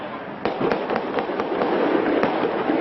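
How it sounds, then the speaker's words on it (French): A rapid series of sharp cracks and bangs echoes at a distance, irregularly spaced over a continuous rumbling background, during a police assault on a kosher supermarket at Porte de Vincennes, Paris. "Des détonations."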